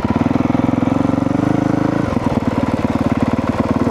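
A 2022 Honda CRF 450R motorcycle engine runs close by, a loud steady buzzing idle that shifts pitch at about two seconds and keeps a rapid pulsing rhythm afterward.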